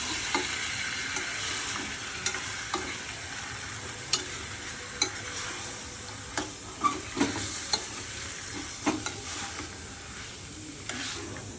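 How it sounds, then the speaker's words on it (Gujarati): Sliced onions and potatoes are sautéed in a pan for a dosa filling, a soft steady sizzle punctuated by irregular scraping clicks of a spoon stirring against the pan, fairly quiet and close. "ગેસ કરી ચરી દેવાના બટાકા"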